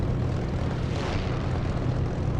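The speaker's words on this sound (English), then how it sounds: "I have the Spitfire engine sound for Echo 19" A Spitfire engine in the DCS flight simulator drones steadily and loudly, a thick propeller roar with a low throbbing pulse that swells slightly partway through.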